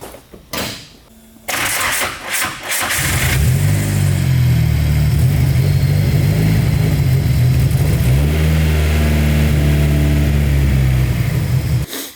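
Toyota Cressida fitted with a swapped SRZ engine, warmed up to temperature and running rough: a few clunks and a start, then a loud close uneven idle with wavering revs.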